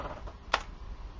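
A computer keyboard's enter key is pressed once, making a single short, faint click against quiet room noise.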